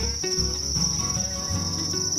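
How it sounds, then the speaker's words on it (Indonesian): Farmed crickets kept in a home for songbird feed chirp in a steady, continuous high trill, loud and close, under a low murmur of background sound and faint music. "Jangkrik adalah salah satu makanan utama burung kicau, diantaranya jenis murai batu dan kacer."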